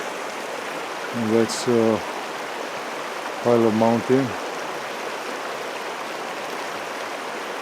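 Continuous rushing of Lost Horse Creek, heard from a bridge in Banff National Park, fills the whole stretch, broad and steady, with someone talking briefly over it twice.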